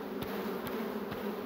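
Honeybees at a hive hum in a steady, continuous drone, soft and close, with faint clicks from handling the frames and no voices.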